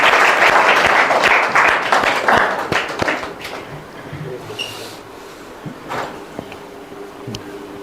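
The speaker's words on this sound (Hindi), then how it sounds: "तालियों से मोनिका का अभिनंदन करें।" An audience applauds at a village school ceremony honoring a student, the clapping loud and dense at first, then thinning into scattered claps and fading under room noise.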